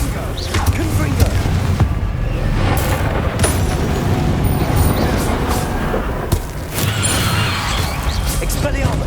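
Confringo fire spells blast during a Hogwarts Legacy duel, with repeated booming explosions and crashing, clattering impacts mixed with shouted voices through a dense, continuous battle din.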